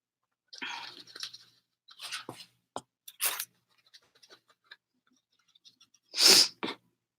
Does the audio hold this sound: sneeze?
yes